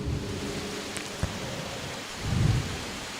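Steady rain hisses throughout, with a low rumble of thunder swelling briefly near the end, distant and moderately loud, with no voices.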